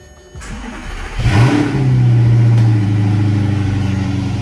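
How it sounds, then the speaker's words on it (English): A 2010 Audi R8 4.2L V8 engine cranks and catches, flares into a loud rev through the exhaust, then settles into a deep, steady idle close by. "we'll go ahead and start up the car"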